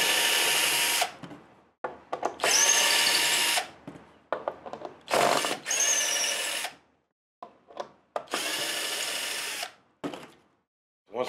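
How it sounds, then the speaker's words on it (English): Power drill working Gibson guitar neck bolts loose, sounding in repeated loud whirring bursts of a second or two, separated by short pauses and brief clicks, close and alone without talk. "First thing we got to do, take the bolts out the neck."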